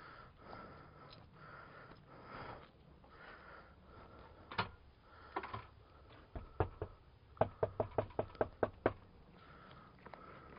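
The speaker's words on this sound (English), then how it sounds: "Let's knock on the door and say hi." Knocking on a door in Japan: a quick run of about eight sharp, evenly spaced raps, close by, after a few scattered taps over quiet outdoor background.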